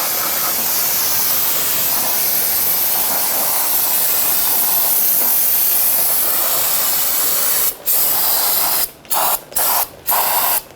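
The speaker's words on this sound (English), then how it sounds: "use some brake solvent to clean up all of the brake dust here" Brake solvent sprays in a long, loud, steady hiss over rear drum brakes on a 1992-1996 Toyota Camry, then breaks into several short bursts near the end.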